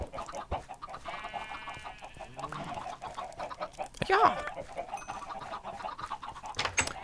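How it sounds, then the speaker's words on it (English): Chickens in Minecraft cluck in short bursts over a few seconds, with a low background hum, and a voice speaks briefly. "I think the chickens that spawn sometimes have a chance to spawn on the other side of the wall."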